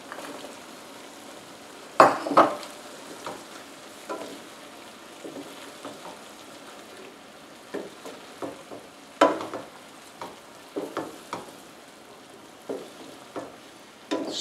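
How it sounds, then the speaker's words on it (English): Snapping turtle soup with celery and pepper stirred in a pot, with intermittent clanks and scrapes of the utensil against the pot over a low bubbling background, close up and with no talking. "Stir it up."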